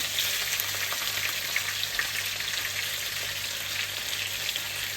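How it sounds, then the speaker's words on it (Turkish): Chicken chops sizzle in a pan in their own rendered fat, a steady, dense crackle and spatter holding evenly throughout with no talking. "Kızarana kadar kendi yağıyla."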